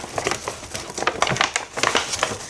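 Crisp paper crinkling and rustling in quick irregular bursts, close by, as a small paper bag is handled.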